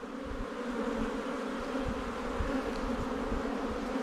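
Honey bees hum at the hive in a dense, continuous buzzing drone, close and steady, with no voices.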